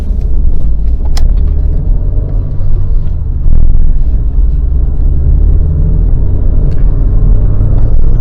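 An Opel Astra G 1.4 with a 90 hp engine on a test drive gives a steady low engine rumble and road drone from inside the car, loud and continuous throughout, with no talking.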